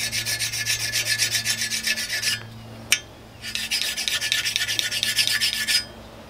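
Blunt soapstone marker rubbed to a point against a sharpening tool, heard as close, rapid rasping strokes in two long bursts separated by a short pause and a single sharp tap.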